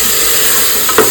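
A ladle stirs chicken biryani in a pot over a steady frying sizzle, a couple of scraping clacks against the metal near the end, close and loud with no talk.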